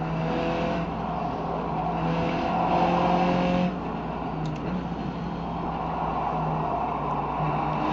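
A race car engine in the iRacing video game roars at high revs on a Formula 1 course, a loud continuous drone that shifts pitch with gear changes and acceleration. No one speaks.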